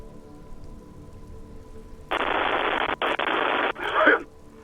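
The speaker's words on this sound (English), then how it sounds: "Her voices fade out into the familiar radio static." Loud bursts of radio static hiss in Disco Elysium after a quiet start, broken by a brief gap and ending in a warbling crackle.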